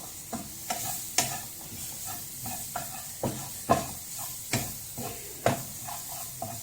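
Carrots stirred in a pan over high flame, a steady sizzle broken by repeated sharp scrapes and clacks of the spoon at an uneven rhythm, close and fairly loud with no voices.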